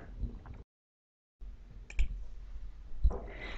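A computer mouse gives a few sharp, close clicks spaced apart over a quiet background with a short silent gap.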